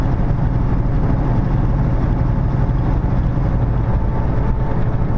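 Steady, loud low rumble of a truck's engine brake while driving, a continuous droning roar heard from inside the cab with no talking.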